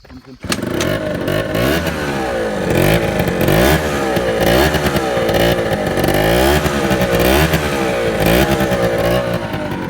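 A 2020 Peugeot Zip 4-stroke scooter with a faulty exhaust revs close by in repeated rising and falling bursts, a loud, rough, clattering engine note that runs throughout after a brief quiet start.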